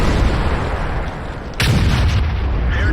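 A single loud tank gun shot in World of Tanks, fired on the move during a tier 10 battle: a sharp crack midway followed by a heavy rumbling boom over steady engine noise.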